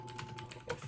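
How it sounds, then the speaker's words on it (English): Computer keyboard keys tapped in a quick irregular burst of about eight sharp clicks, faint and close, with a low background hum and no speech. "Someone started slapping their keyboard."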